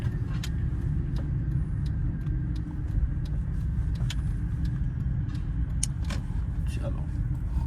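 A car on a driving lesson runs along with a steady low engine rumble and road noise from inside the cabin, broken by faint clicks and rattles as an instructor talks over it.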